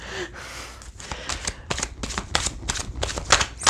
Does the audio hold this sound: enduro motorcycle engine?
no